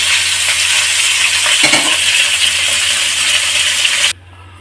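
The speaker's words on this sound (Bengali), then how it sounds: "এবার এই মাছগুলো ভেজে নেব" Pieces of Bhola fish frying in hot oil for a Bengali fish curry, a loud, dense, continuous sizzle close by that stops abruptly near the end, leaving a quiet hum.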